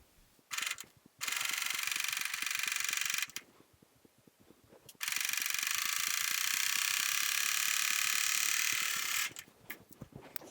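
Serger sewing machine stitching a placemat runs in bursts, a rapid mechanical whir with a rhythmic ticking clatter, starting and stopping twice with short pauses of quieter clicking, close and alone.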